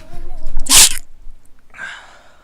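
A single loud sneeze close to the microphone during a Persona 3 FES game session, a sharp burst followed by a short breathy exhale, then quiet.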